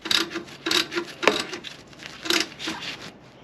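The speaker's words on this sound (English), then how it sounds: "So I'm tightening it down till it just bottoms out." A new speed bleeder is tightened on the brakes of a 1989 Chevy K1500 truck with an 11 mm wrench, giving a steady series of close, scraping ratchet-like strokes that ease off at the end.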